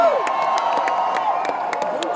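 A large outdoor crowd at a political rally in Washington Square Park cheers and whoops continuously, loud and dense, with scattered shouts and claps rising above the steady roar.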